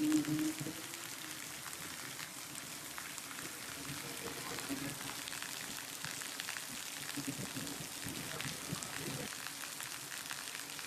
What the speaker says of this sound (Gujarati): જો મિત્રો કેટલો મસ્ત વરસાદ પડે છે.